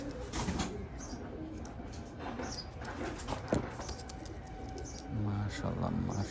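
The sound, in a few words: high flyer pigeons cooing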